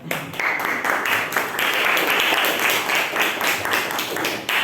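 Classroom applause for a student group returning to their seats after a short-story presentation, a steady, dense wash of clapping from many hands that carries on evenly throughout.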